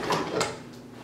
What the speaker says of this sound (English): All right, let's go in my drawer, hold on.